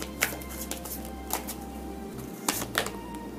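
Tarot cards being shuffled by hand, with a few crisp riffling flicks spaced out over a low steady hum, fairly close but soft.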